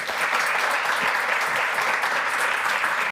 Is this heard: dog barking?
no